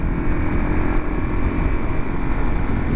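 A 2022 Kawasaki KLR 650 single-cylinder motorcycle engine drones loudly and steadily close by, a dense continuous rumble with no pauses or gear changes.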